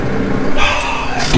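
John Deere tractor engine running while plowing a barley field, a steady loud diesel drone with a slight rise in pitch partway through, close and continuous.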